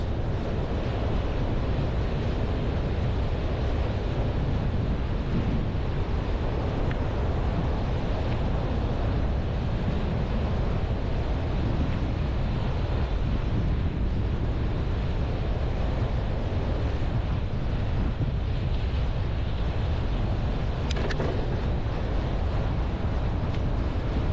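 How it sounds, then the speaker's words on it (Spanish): Rough, foamy surf breaks on the Argentine sea at Playa Grande beach, San Clemente del Tuyú, as a continuous loud wash of waves mixed with gusting wind noise. "Mucha espuma en el mar, mucha espuma. Está movido, pero hermoso como siempre nuestro mar argentino."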